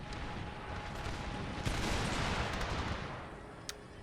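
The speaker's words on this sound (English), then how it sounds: "I'm now going to order the second rank to open fire" Musket volley from an infantry rank in Empire Total War at the Battle of Culloden: a dense, continuous crackle of gunfire with a sharper burst partway through and a lone late shot, steady and loud throughout.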